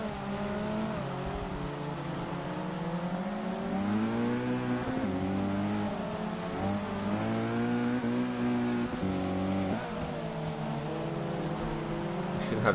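A race car engine in the Forza 6 racing game, on a wet track, roars steadily at high revs, rising and falling through gear changes for the whole stretch, loud and close.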